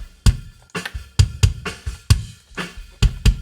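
Metal bass drum captured by Sennheiser 602 and 901 microphones blended, rapid close thumps with round low body and clicky attack, about ten hits in a driving double-kick pattern amid other drum hits.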